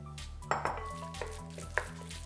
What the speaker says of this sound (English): This just feels like a comically large bowl for the amount of meat I'm mixing.